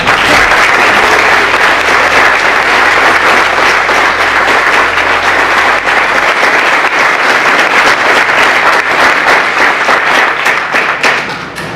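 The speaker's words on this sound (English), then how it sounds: "we have to applaud them" Loud, steady applause from a gathered audience at an outdoor groundbreaking ceremony, many hands clapping densely and close for about twelve seconds, tapering slightly near the end with no talk over it.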